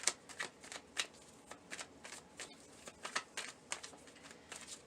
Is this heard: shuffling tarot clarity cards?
yes